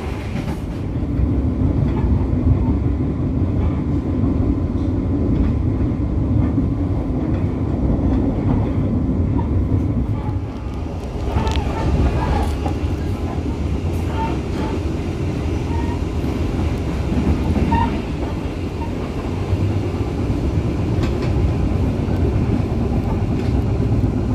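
The Cikuray passenger train runs along the rails in Indonesia, a continuous loud low rumble and rattle of the carriages heard from on board, steady throughout with no talk.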